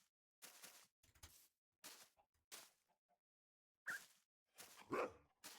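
A puppy in a cozy video game gives a series of short, crisp barks in separate bursts with silent gaps between them, close and fairly quiet.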